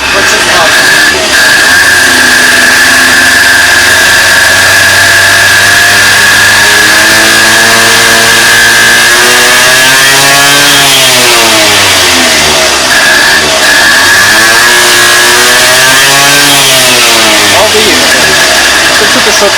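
Honda Dio 27 scooter engine runs loud and close after repair, idling and then revving up and down in repeated rising and falling sweeps, with a voice briefly over it.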